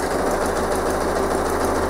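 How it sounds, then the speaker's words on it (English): A sewing machine zigzag stitches along the edge of a fabric postcard, running fast and continuously with a dense, even mechanical whir and rapid needle ticks, close by and with no speech. "I'm careful while I'm stitching that my stitch on the right side, on the inside of my sewing machine, is actually off of the postcard"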